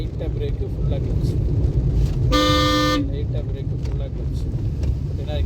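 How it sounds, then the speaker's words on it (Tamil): A single sustained car horn blast, loud and close, sounds for about half a second over steady engine rumble and traffic noise, from a car during a driving lesson. "மறுபடியும் ஹார்ன் அடிக்கணும்."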